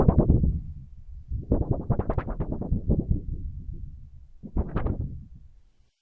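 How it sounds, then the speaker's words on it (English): A sheet of paper shaken by hand, recorded as a sound design sample: three bursts of soft rustling and flapping, one brief, a longer wavering middle swell, then a short final flutter, close and fairly quiet. "This was the shaking paper."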